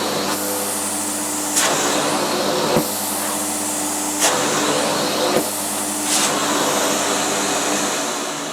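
A new Bosch Perfecta 85 cylinder vacuum cleaner runs on its lowest suction setting, a steady close whooshing drone with faint periodic clicks and bumps, and no one speaking.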